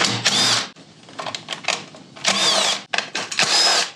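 Power tool spinning off 8mm nuts from a generator in short bursts, several sharp whirring runs of varying length separated by brief pauses and faint clicks, close and loud.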